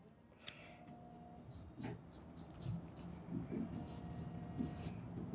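Quiet, repeated scratching strokes as an integration solution is written out in a university maths lesson, with soft talk faintly underneath.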